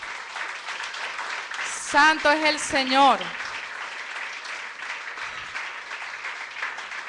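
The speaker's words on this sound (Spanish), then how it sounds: "Denle un fuerte aplauso a Dios." A church congregation at a Spanish-language Sunday school service claps steadily in the background while someone speaks briefly over it partway through, the applause a soft continuous patter from a moderate-sized room.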